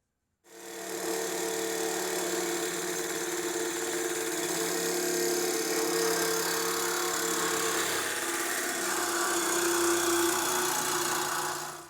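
Sawzall reciprocating saw cutting through exhaust pipe on a 2010 Chevrolet during a dual 2.5-inch axle-back exhaust install, a steady loud buzzing cut that runs continuously, close up, for the whole stretch with no voices.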